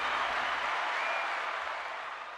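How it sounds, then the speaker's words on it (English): Audience applause, a brief steady wash of many hands clapping at moderate loudness, tapering slightly at the end. "I gotta give you a round of applause for that one."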